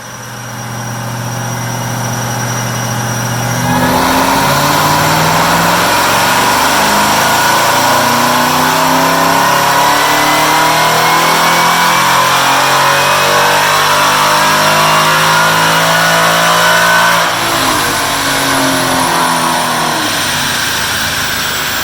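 Supercharged Chevrolet Camaro ZL1 on a factory-tune test run: a loud engine idles, then climbs in a long rising rev, holds at high rpm, drops briefly and pulls up again, with a faint supercharger whine above the engine.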